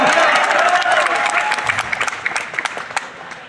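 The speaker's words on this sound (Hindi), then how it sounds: "ऐसा लगना चाहिए कि नौजवान विद्यार्थियों की तालियां हैं" Young students in an audience give a loud, dense round of applause that tapers into scattered individual claps toward the end.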